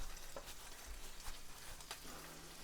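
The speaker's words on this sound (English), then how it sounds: "Oh yeah, we got a little sizzling going on there." Soft, steady sizzling of a bacon burger frying in a pan at a campsite, quiet and continuous with faint crackles and no talking.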